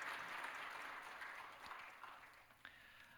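Applause from a church congregation during a Sunday service, heard moderately far off in a large room, a soft continuous patter of many hands that gradually fades.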